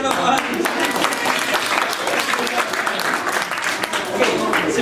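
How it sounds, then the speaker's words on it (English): Applause from a children's audience at an author's reading of a mystery story, a dense steady patter of clapping running the whole time, with some voices mixed in. "Big round of applause."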